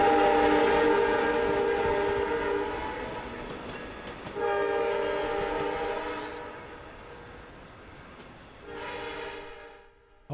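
A train rumbles past with a loud, sustained multi-tone horn blaring twice, fading between blasts, with rail noise underneath; no talking.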